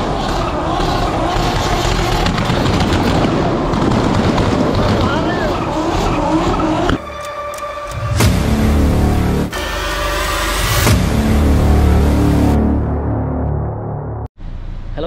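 Modified Toyota Supra cars with altered exhausts rev hard and skid their tires at the Abu Dhabi Auto Moto 2023 motorshow, loud and near. Engine roars and tire squeals surge and cut off in bursts over crowd noise and voices.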